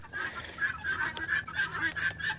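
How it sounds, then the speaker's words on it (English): Guinea fowl calling nearby, a rapid series of harsh, repeated honking squawks in a steady chattering rhythm, loud and close without speech. "Come on, birds, you want to play? You want to play with me now?"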